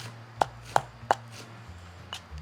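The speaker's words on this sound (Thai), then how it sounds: "ตำลึงนี่แม่ก็จะหั่นเอา" A knife chops ivy gourd (tamlueng) leaves on a board in a home kitchen, three sharp close knocks in quick succession followed by a softer fourth after a pause.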